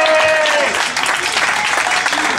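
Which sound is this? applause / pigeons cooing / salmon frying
applause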